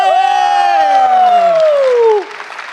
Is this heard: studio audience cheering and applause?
yes